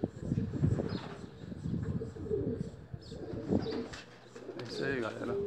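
A flock of young pigeons coos and chirps close by in a soft continuous murmur, with a wing flutter or two, while a person talks over them now and then.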